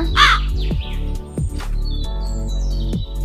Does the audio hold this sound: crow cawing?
yes